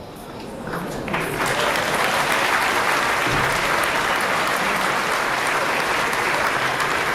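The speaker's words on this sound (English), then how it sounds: "You've already applauded" A large crowd at a Robbie Burns supper applauds, the clapping swelling within the first second and then holding dense, loud and sustained across the hall.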